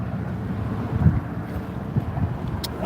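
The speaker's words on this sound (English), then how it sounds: "because it's kind of windy out here." Wind gusts buffet the microphone outdoors beside the water on a fishing outing, a steady low rumble with a few stronger puffs, heard alone without talking.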